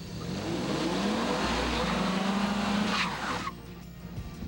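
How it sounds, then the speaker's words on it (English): Four-wheel drive Toyota Tacoma with tires slipping, a loud engine revving under strain with a rising whine and tire scrub, then cutting off sharply near the end. "And next, the four-wheel drive Toyota Tacoma."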